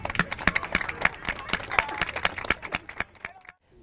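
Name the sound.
applause for the children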